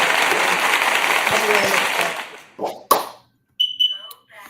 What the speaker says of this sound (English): So let's give him a big round of applause, man.